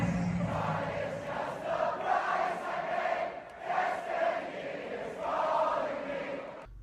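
A huge college football stadium crowd at Michigan sings a song together with no music behind it, a massed chorus of voices rising and falling in sustained swells, loud and reverberant across the stands.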